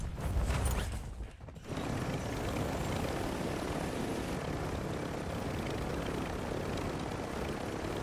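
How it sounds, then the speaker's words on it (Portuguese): Helicopter in the video game Warzone, a loud steady rotor and engine drone that carries on through the clip after a brief dip near the start. "Acho que eu vou de helicópteros."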